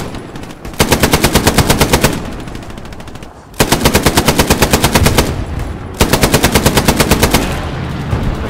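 Machine gun fire in the World War II shooter Hell Let Loose comes in three long, loud bursts of rapid, evenly spaced shots, separated by short pauses filled with distant battle noise.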